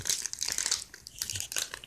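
A trading card booster pack is torn open by hand, a close, bright burst of crinkling and ripping wrapper in quick irregular bursts.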